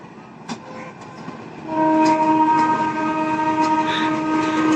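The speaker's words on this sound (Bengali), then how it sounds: "ট্রেন দেখতে পেলাম ট্রেন যাচ্ছে" A train passes along a line near a house, heard from a rooftop in Gaibandha town, Bangladesh. Faint rumble gives way to a loud, steady, sustained horn blast that holds to the end over continuous wheel noise.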